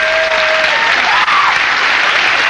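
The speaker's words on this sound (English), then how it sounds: "A big round of applause, please, for this woman sitting here" Loud, dense applause from a live variety-show studio audience, a thick continuous roar of clapping sustained throughout, with a faint brief tonal whistle near the start.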